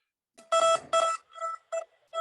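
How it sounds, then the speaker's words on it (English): An alarm going off: loud, close electronic beeping in a steady repeating pattern of tonal pulses, sounding alone without any talk. "we've got the alarm going off now"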